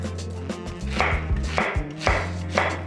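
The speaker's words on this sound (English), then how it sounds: "Just roughly chop." Courgette, broccoli, tomatoes, peppers and onion are roughly chopped on a board with a knife, giving steady, close, crisp chops about every half second over a low hum.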